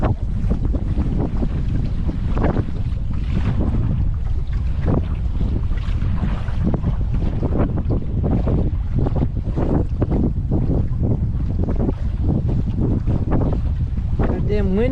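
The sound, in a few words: wind blowing during Hoover Dam boat ride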